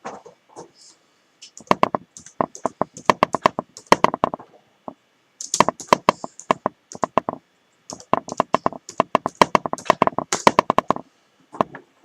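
Rapid clicking of typing on a computer keyboard, close and fairly loud, arriving in dense bursts separated by short pauses.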